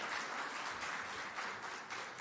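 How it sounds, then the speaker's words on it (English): Audience applause at the official launch of a medicinal cannabis special permit programme, a steady broadband wash of clapping that holds at an even level throughout, fairly quiet with no voices over it. "deserves your round of applause"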